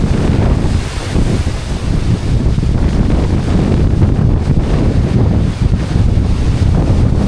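Sea surf pounds a beach lined with threatened houses, a loud, constant roar of breaking waves mixed with heavy wind buffeting the microphone.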